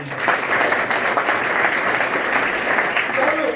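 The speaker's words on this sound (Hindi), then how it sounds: "एक बार भैया के जोरदार ताली।" Loud, sustained clapping from an audience at a school founders' event in Mokalpur, Jaunpur, a thick continuous roar of hands filling the whole stretch close up.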